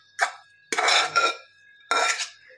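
Chopped onion greens tipped into a bowl of jowar flour dough, giving a few short clattering scrapes and knocks of utensil against the bowl, close and fairly loud, in three separate bursts with quiet gaps.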